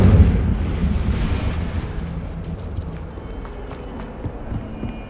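A fire spell cast in the game Hogwarts Legacy, heard as a loud rumbling whoosh and burst that is strongest at the start and then tails into a steady roaring crackle, with no talk over it.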